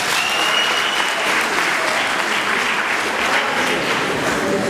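Audience applause at a rap performance, a dense, steady wash of clapping from a crowd, loud and sustained for several seconds with no speech over it.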